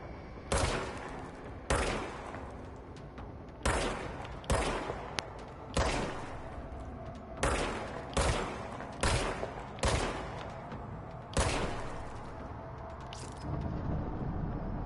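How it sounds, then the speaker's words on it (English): In the video game Control, the service weapon fires about a dozen loud, punchy single shots at uneven intervals, each one ringing out briefly before the next, with no voices. "Okay, now I have a gun."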